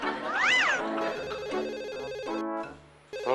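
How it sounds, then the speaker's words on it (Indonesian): A telephone rings with a warbling electronic tone that rises and falls, followed by a steady beeping ring pattern, close and fairly loud. "Telepon tuh dia."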